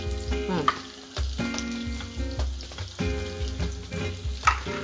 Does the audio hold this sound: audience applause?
no